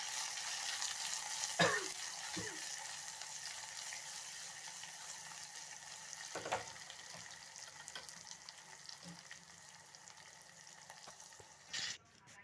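Finely chopped onion fries in a pan, browning for a Nellore-style dal stew, giving a soft continuous sizzle with a few clanks of a utensil and no speech.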